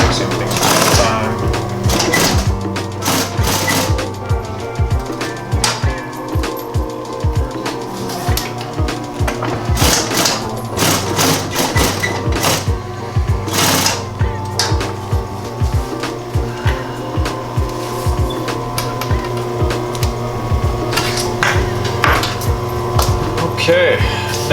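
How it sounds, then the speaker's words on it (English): A sewing machine stitches a seam on a leather duffle bag, running in a loud, fast, continuous rattle of needle strokes with small pauses and shifts in pace. "we're just going to run the sewing line all the way down here"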